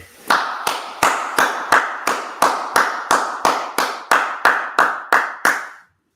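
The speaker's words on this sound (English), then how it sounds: "Let's clap it up." Synchronized clapping from a group at an Israelite school gathering: about fourteen loud, evenly spaced unison claps in a steady rhythm, each ringing briefly in the room, then stopping.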